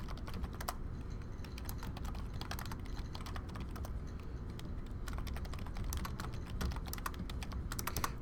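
Steady typing on a computer keyboard while entering a business letter, with quick, fairly close key clicks in continuous runs and short pauses over a low background hum.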